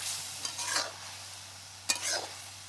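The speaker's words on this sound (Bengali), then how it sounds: "চিনি দিয়ে দিব ভালোভাবে নাড়াঘাড়া করে নিব আমি" A spatula stirs a carrot Chinese-style dish in a pan after sugar and salt go in, giving two short scraping, sizzling bursts against a faint steady background, with no talking.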